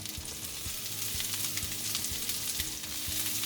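Mushrooms, garlic and onions sauté in a pan with a dense, continuous close sizzle and crackle, even in loudness throughout and free of any voices.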